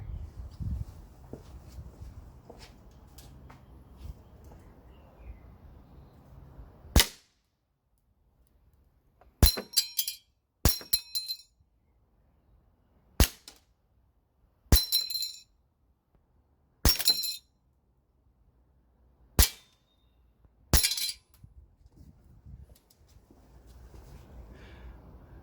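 A Tokyo Marui Sig P226 E2 airsoft pistol fires at plates, giving about eight sharp, isolated cracks and clinks spaced a second or two apart, separated by near silence, with faint handling noise at the start and end.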